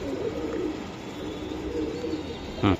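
Pakistani teddy pigeons coo at a pigeon market, low rolling coos repeating close by over a steady background murmur, ending in a brief louder knock.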